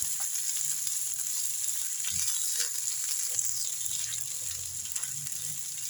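Garlic and ginger sauté in a hot pan for a ginger-garlic pickle, making a steady, even sizzle that holds at a constant level throughout, with faint soft stirring noises underneath.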